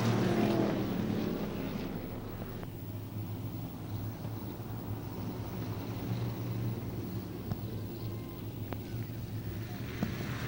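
Supermodified race cars running laps at a speedway in a 1996 feature, a continuous engine drone with steady low hum and broadband roar heard from a distance, with faint crowd or announcer sounds blended in.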